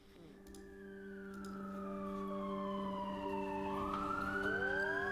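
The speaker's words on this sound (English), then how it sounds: "sirens going on here" A wailing emergency siren sweeping up and down in pitch, growing louder as it approaches, with a steady droning tone underneath.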